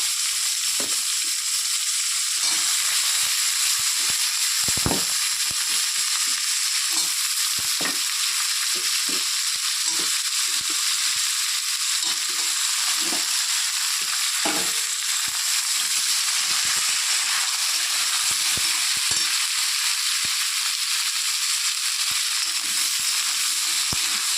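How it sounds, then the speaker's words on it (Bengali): Potato, tomato and broccoli fry in hot oil with whole cumin seeds and a bay leaf, giving a steady, dense sizzle throughout with occasional soft stirring knocks. "তো সব সবজিগুলো আমি ভালো করে ভেজে নেব।"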